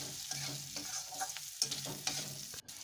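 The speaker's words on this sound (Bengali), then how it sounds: "আলুটা দিয়ে এবার আমি আলুটা হালকা করে একটু ভেজে নেব।" New potatoes frying in a pan with salt and turmeric, a soft steady sizzle with a few stirring scrapes, close up and quiet, with no talking.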